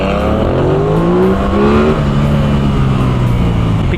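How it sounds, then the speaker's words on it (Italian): A Toyota Supra's engine revs hard nearby, its pitch climbing and then sliding down through falling harmonics, loud and alone without talk, on a street in Naples. "Piccolo sparo con la Supra."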